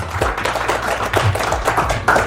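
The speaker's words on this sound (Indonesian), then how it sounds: "Tepuk tangan buat Pak Irawan." Dense applause from attendees at an industrial relations training session, honoring a participant named Pak Irawan; steady, close clapping from a room of people, fairly loud and sustained for the whole stretch.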